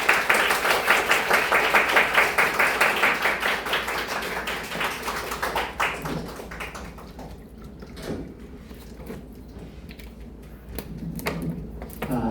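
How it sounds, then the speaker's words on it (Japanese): An audience at a church retreat in Kyoto claps loudly in sustained applause to welcome a speaker, dense and close at first, then thinning into scattered claps before a few final bursts. "先生をお招きするときに大きな拍手でお迎えいたします"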